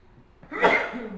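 A single sharp sneeze, close and fairly loud, rising quickly and trailing off into a breathy tail.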